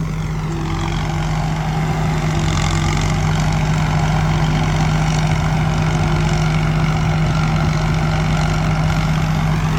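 A combine harvester engine runs steadily at a low, even idle with a constant deep drone and hum, close and loud throughout, while harvesting rice.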